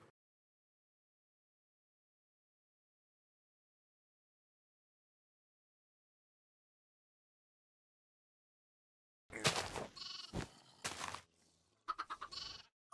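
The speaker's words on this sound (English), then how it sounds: "We got far too many chickens and sheep, like way too many chickens and sheep" Sheep in the Minecraft video game bleat in a few quick clustered bursts, fairly close, after a long stretch of silence.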